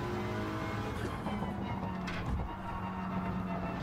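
Race cars in a manufacturers cup round of a racing video game at Spa, a Subaru WRX among them, engines droning steadily with overlapping revs, a brief bump and tire noise, loud and continuous with no talk.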